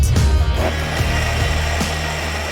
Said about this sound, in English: In just few seconds, this 1000-watt Bosch TrueMix Pro Mixer Grinder grinds through almost anything.